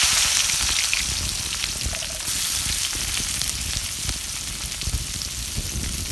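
Onions frying in oil in a pan, with a steady close sizzle that holds for the whole stretch and has no voices over it.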